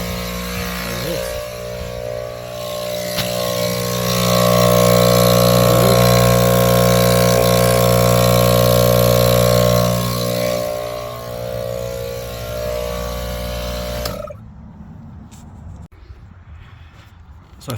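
An ARB air compressor installed on a Nissan Titan runs with a loud, steady motor hum and buzzing pulse that swells in the middle, then shuts off abruptly, leaving quiet background.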